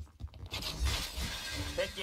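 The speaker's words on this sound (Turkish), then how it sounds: "benim de camlarımı kırıyor." A short, loud burst of window glass shattering in the online shooter Point Blank, heard close up, with game noise and a voice speaking underneath.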